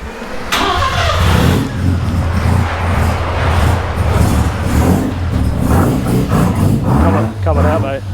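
A 1978 JDM Mazda RX-7 Series 1 Savanna GT with a bridgeported 12A rotary pulls out of a barn: a sharp startup bark, then a choppy, rumbling idle and brief revs, with someone talking over it.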